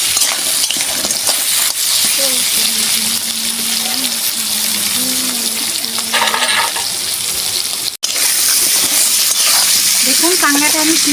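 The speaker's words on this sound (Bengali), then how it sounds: "এগুলো আমি ভালো করে ভেজে নেব" Crabs sizzle and fry in a hot pan, a continuous crackling hiss with occasional stirring clatter and brief voice-like tones, close and fairly loud.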